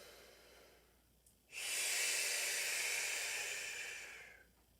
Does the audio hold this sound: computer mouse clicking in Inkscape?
no